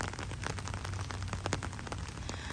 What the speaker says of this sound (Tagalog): Tapos bumuhos ang ulan, guys.